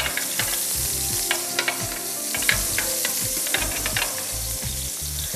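Thin fish fillets fry in cooking oil in a frying pan, a loud continuous sizzle and crackle with scattered pops and clatter of handling, close and steady throughout with no talk.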